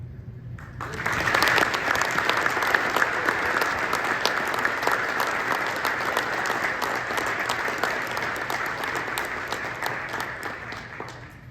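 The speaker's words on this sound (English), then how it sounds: "Please join the OASSA and the community of Nordonia Hills City Schools as we applaud Ms. Jessica Archer" An audience at a school awards ceremony applauds an honored assistant principal, dense clapping rising quickly after a brief quiet start and holding steady at moderate level for about ten seconds.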